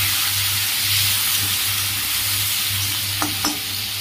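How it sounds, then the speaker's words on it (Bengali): Shrimp with turmeric and salt frying in a pan, a steady close sizzle and crackle with a low hum beneath and a couple of brief utensil knocks near the end. "অল্প ভাজা করবো"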